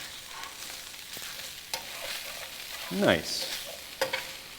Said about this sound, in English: And when this goes in, you want to hear that sizzle.